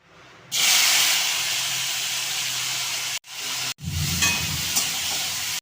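Kajoli fish and spices hit hot oil in a loud, sudden burst of sizzling hiss that holds steady, cut by two brief gaps, then resumes with stirring and scraping underneath.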